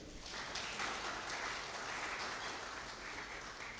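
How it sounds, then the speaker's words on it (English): Award winners at a Top 40 Under 40 men's awards dinner applaud themselves, a steady, moderately faint wash of clapping that holds evenly throughout. "You can clap for yourself."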